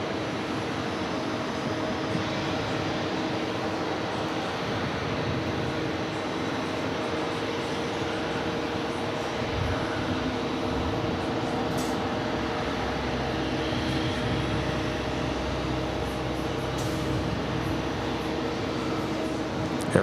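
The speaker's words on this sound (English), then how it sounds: "Air France, touching down. Flight 8 coming in from Charles de Gaulle. 777-300ER, bienvenue." Air France Boeing 777-300ER touching down at JFK airport, a broad, steady jet engine roar heard from a distance that holds for the whole stretch, with no voices.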